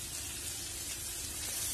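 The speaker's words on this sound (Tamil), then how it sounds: "இந்த வெங்காயம் சேர்த்திடலாம்." Chopped onion sizzling in melted butter in a pan, a steady, even hiss with soft crackle running throughout, close and fairly quiet.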